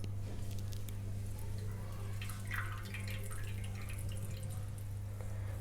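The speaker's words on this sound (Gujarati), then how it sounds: "પ્રેસ કરીને પાણી કાઢી લઈશું। વધારે પ્રેસ નથી કરવાનું, આ રીતે હળવા હાથે પ્રેસ કરીશું।" Water drips from homemade chenna as it is pressed gently by hand to squeeze out the whey: soft, irregular drips, faint and close, over a steady low hum with no talking.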